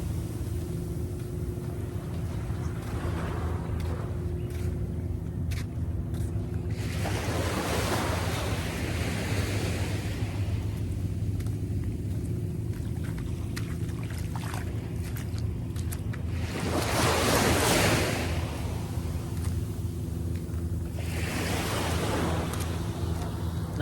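Sea waves wash onto the beach at a resort in Eastern Samar, a continuous roar of surf with several louder breaking swells, mixed with gusting wind buffeting the microphone.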